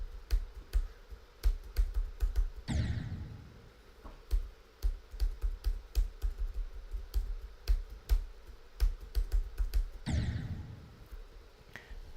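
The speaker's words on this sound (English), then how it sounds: "sound of you pressing the keyboard" Computer keyboard typing in rapid, uneven bursts of sharp clicks and taps with a couple of heavier thuds, close and alone without talk, during a Geometry Dash gaming stream.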